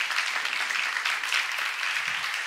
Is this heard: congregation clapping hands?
yes